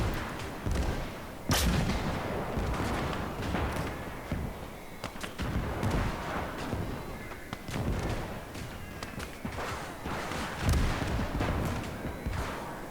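Distant German 88 mm gun firing in the Gates of Hell strategy game, Battle of Smolensk, with repeated heavy booms and thuds scattered across a busy battlefield din of other gunfire.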